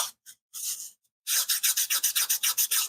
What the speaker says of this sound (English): I can sand that off.